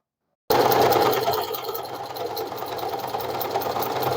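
An Usha Dream Stitch sewing machine starts up after a short silence and runs steadily, a close, rapid mechanical whirring and ticking of the needle stitching fabric without pause.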